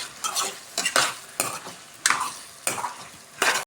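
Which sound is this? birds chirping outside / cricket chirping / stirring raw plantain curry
stirring raw plantain curry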